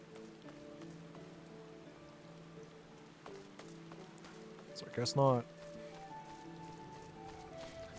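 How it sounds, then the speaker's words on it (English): Rain falls in Final Fantasy XIV as a soft, steady patter under sustained musical tones, broken once by a brief spoken remark midway. "now it's raining"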